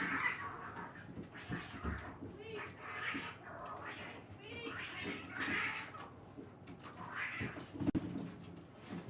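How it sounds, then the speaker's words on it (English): Cats fight outdoors, yowling and caterwauling in drawn-out wavering wails that come and go, heard faintly from a distance beneath ongoing background noise. "There's a cat fight outside."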